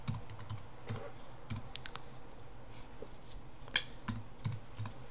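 Keys on a computer keyboard are tapped in short, irregular bursts while commands are entered in the vi editor on Linux, quiet and close, with pauses between the clusters of clicks.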